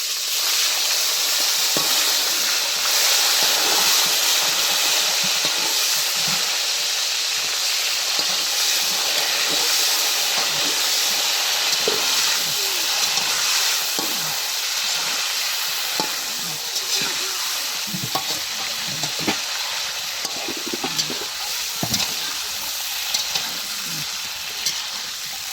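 Chicken pieces fry in a pan with a steady, dense sizzle, while scattered scraping clicks of a utensil stirring come through near and clear throughout, with no talking.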